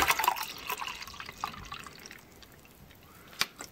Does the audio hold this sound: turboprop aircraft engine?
no